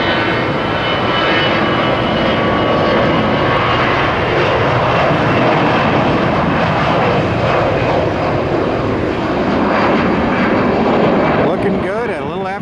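Airbus A321neo jet taking off, a loud, continuous broadband engine roar that holds steady throughout at close range, with someone speaking faintly over it.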